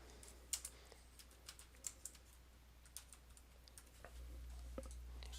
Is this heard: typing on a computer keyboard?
yes